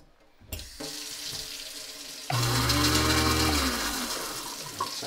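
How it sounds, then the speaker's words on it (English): A kitchen sink garbage disposal starts up with water running: tap water hisses first, then the motor kicks in with a loud, steady grinding hum over the flowing water, close and continuous. "Sounds like a disposal working."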